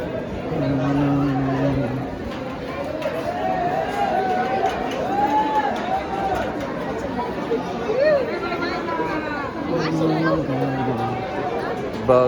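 Busy crowd murmuring and chattering in a darshan queue at a temple, a steady babble of many voices close around with occasional louder individual calls.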